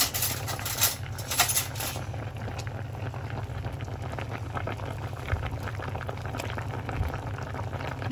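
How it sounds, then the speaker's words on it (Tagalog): A pot of stew with talong, tilapia, ginger, tomato, onion, garlic and chilies at a rolling boil, giving a steady low bubbling roar with soft patter, close and continuous, no talk. "Yan na, kumulo na."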